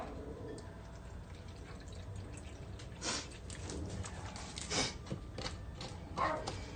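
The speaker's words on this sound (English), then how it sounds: "She's outside barking." Dog barking outdoors, a few distant muffled barks at irregular intervals over faint indoor background noise, with no one talking.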